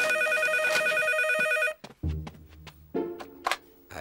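A telephone rings loudly in a repeating electronic trill, then cuts off and is followed by handset clunks and handling noises as it is picked up.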